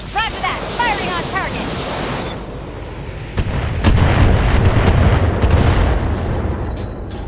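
Mech weapons firing at a target in the BattleTech strategy game: heavy booming blasts and rumbling impacts swell after a radio voice, loud and dense, with a speaking voice over the top.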